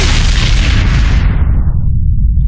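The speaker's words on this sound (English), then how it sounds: "Mortars!" Mortar explosions in a war video game: a loud, close, roaring blast that fills the clip and rumbles away as its hiss fades out.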